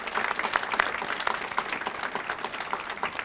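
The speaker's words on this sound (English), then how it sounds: "how about one more round of applause for all of our award recipients?" An audience at a city employee recognition awards ceremony gives award recipients a round of applause, dense steady clapping filling the room without a break.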